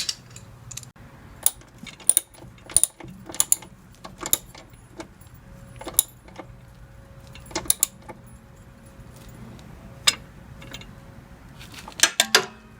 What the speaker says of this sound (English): all I'm going to do is just tighten the nut here